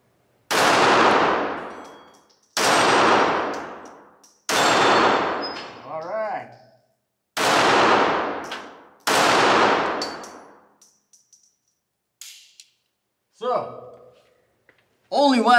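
Ruger LCP .380 pistol fired at a target, five sharp shots spaced about two seconds apart, each loud blast followed by a quick decay and faint ringing, with short rattling handling sounds between and after.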